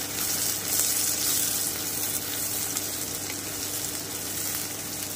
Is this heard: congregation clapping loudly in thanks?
no